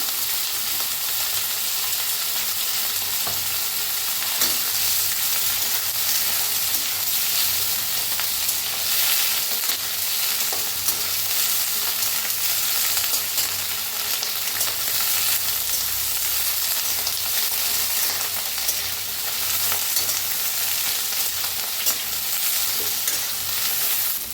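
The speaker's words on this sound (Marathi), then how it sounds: "फुलगोबी बी भाजून घेऊया।" Drained cauliflower florets fry in hot oil for an aloo gobi dish, giving a steady, dense sizzle with occasional stirring, close and continuous, with no talking.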